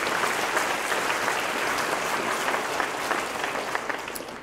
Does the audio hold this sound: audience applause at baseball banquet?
yes